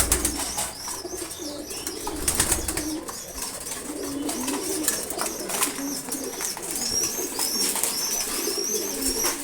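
Racing pigeons eating their morning feed give soft, repeated throaty coos, with scattered chirps and light pecking and rustling close by, in a continuous low murmur.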